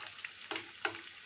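Cauliflower frying in hot oil while a spoon bastes it, a steady close sizzle with a few sharper crackling bursts and light scrapes.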